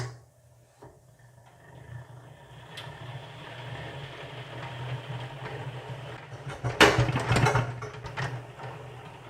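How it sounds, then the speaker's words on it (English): A honey extractor holding four full honey frames spins up, giving a steady mechanical drone that builds gradually with a low hum and a louder rattling surge near the end. "Now that we've got the 4 frames into our basket, they're full of honey and ready to be spun."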